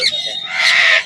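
A loud, close squawk or honking call from a bird at a pet bird market, one harsh cry lasting about a second.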